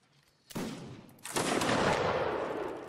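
Musket volleys in a multiplayer battle game, with a sharp crack at about half a second and then a louder, sustained barrage of overlapping shots that rolls on and slowly fades.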